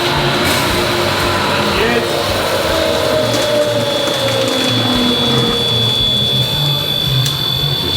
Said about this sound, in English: Blowing the last milk out. You'll hear a noise.